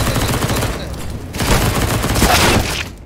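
Dense CS:GO gunfire fills the whole stretch, rapid overlapping shots in a sustained barrage with a brief lull near the middle before the firing swells again.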